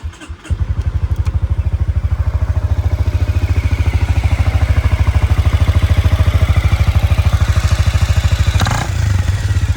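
Honda Forza MF10 fuel-injected scooter engine catches after a brief crank, then settles into a steady, even idle with a rhythmic low putter up close, a soft clunk near the end.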